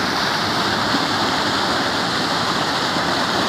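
Water rushes down a waterfall trail on a farm in Barro, Ceará, Brazil, a loud, steady, close roar of falling and flowing water that holds constant throughout with no talking.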